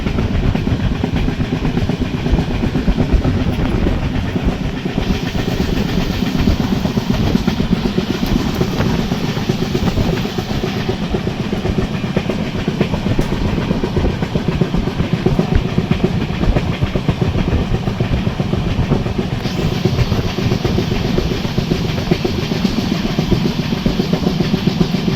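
A Coimbatore AC special train hauled by a WAP-7 electric locomotive rolls along the rails, a loud continuous rumble with steady clickety-clack from inside the carriage, with no voices.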